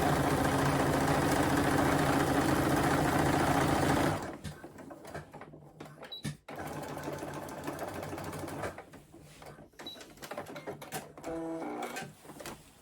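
A sewing machine runs loudly and steadily along the lining edges of a crossbody bag for about four seconds, then stops, leaving fabric rustles and handling clicks.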